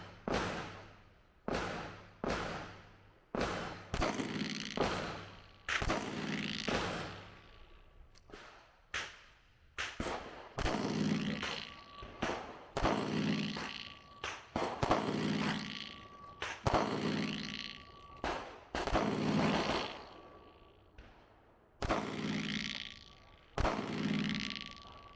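Test-firing a Glock G43X pistol with new 15-round magazines outdoors, a long string of sharp individual gunshots with uneven gaps, each shot loud and echoing briefly, no talk.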